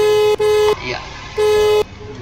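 A car's panic alarm, set off from a phone, blasts two long steady horn honks, loud and close, separated by a short pause, with a brief chirp between them.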